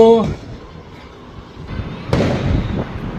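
A sharp firecracker bang bursts out during Diwali after a quieter stretch with a brief voice at the start, followed by a crackling tail and smaller pops.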